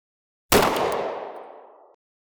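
A single loud SIG 365 pistol shot firing an ARX NovX round, a sharp close crack with a ringing tail that fades over about a second and a half, heard alone.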